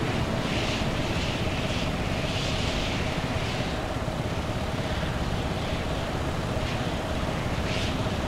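An aircraft flying in the video game Stormworks gives a steady, even engine drone with a rushing wind-like hiss and no talk over it.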